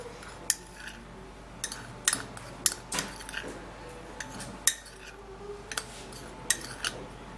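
Spoon or utensil scraping and clinking against a bowl while rice powder is mixed into a face mask, with sharp irregular clinks spread over several seconds and a quiet steady background.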